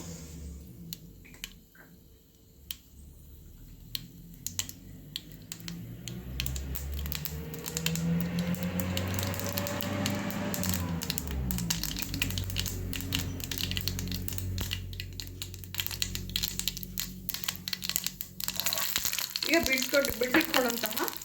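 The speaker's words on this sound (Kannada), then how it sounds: "ಎಣ್ಣೆ ಹಾಕಿದ್ದೀನಿ. ಈಗ ನಾನು ಸಾಸಿವೆನ ಹಾಕ್ತಾಯಿದ್ದೀನಿ." Mustard seeds splutter and crackle in hot oil in a pan while cooking agase and gongura sour sambar, a busy sizzle that builds and stays steady throughout.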